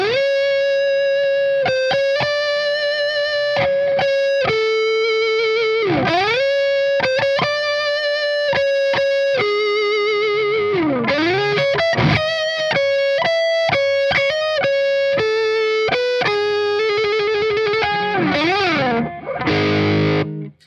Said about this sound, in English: it just overdrives this amp really hard